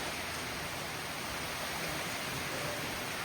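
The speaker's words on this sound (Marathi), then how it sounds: "पाऊस वाढायला लागला पावसात जोर कमी आला परत सारी जोर वाढायला लागलाय" Heavy monsoon rain pours down in a steady, dense hiss that stays even and unbroken for the whole stretch, with no voices.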